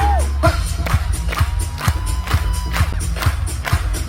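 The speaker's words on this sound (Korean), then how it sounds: "박수! 박수!" A K-pop concert audience at Weverse Con claps in a steady, loud rhythm on every beat, cheering and whooping between the claps while music plays underneath.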